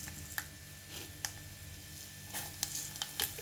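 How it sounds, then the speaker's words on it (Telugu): Urad dal tempering with cumin, mustard seeds, dried red chillies, garlic and curry leaves in hot oil for a simple tomato dal, giving a soft, steady sizzle with scattered sharp pops and crackles, faint and close. "ఇప్పుడు తాలింపు వేసేసుకుందాం"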